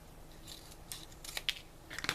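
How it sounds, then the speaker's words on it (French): Scissors snip through a folded paper circle for a paper flower, several short crisp cuts close by in an irregular rhythm, with the sharpest snips near the end. "Vous allez prendre vos ciseaux et grosso modo vous allez couper de part et d'autre"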